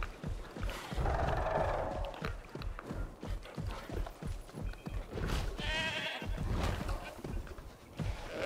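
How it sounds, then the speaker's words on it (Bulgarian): Goats bleat in the Jurassic World video game as they are released for a dinosaur, several wavering calls rising over a busy rhythmic background of footsteps and game ambience, with no speech. "Козички на свобода."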